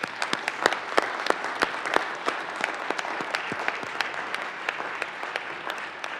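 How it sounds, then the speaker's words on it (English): Audience in the Colorado Senate chamber applauding a family, a sustained round of clapping with distinct sharp individual claps standing out over the steady crowd wash. "Let's give the family a round of applause."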